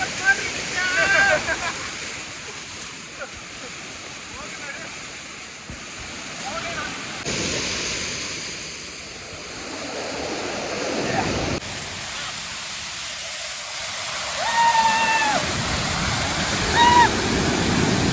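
Forceful water thunders down Oliyappara waterfall in Anaikatti, a dense roaring rush heard close and steady, with people talking faintly underneath.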